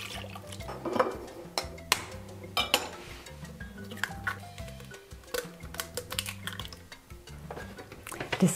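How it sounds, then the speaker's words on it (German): A stand mixer's flat beater churns a quark-and-oil dough for an Easter braid at highest speed, giving a steady, loud motor drone topped by rapid rattling and knocking against the bowl, with no voices. "Das Ganze jetzt mit dem Flachrührer zu einer Masse verrühren. Und das mache ich auf höchste Stufe."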